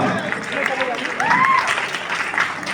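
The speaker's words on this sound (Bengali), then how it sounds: "জোরে হাততালি একবার" A crowd applauds at a convocation ceremony as a garland is placed on a statue, a dense steady clapping with a voice speaking over it.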